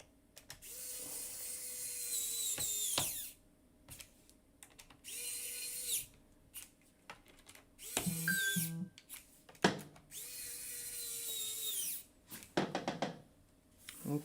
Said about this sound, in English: Man, screws are not my friends today. All right, let's tighten these up.